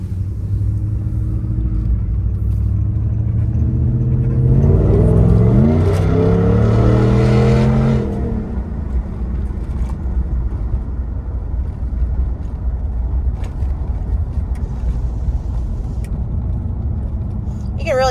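A supercharged Roush Ford SVT Raptor truck engine with high miles, heard from inside the cab with the rear window down: a steady low idle rumble swells into a loud rising rev for a few seconds, then drops back to a quiet idle.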